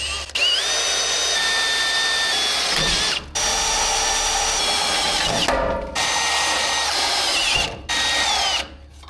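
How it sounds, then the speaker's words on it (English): A power drill whines steadily while boring a 3/8-inch hole into a steel truck frame, running in four long bursts separated by brief pauses, close and loud. "Then we'll drill 3/8 hole."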